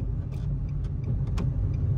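A manual car's engine hums low and steady from inside the cabin during a driving lesson, with faint small clicks and knocks from the gear change and no talk.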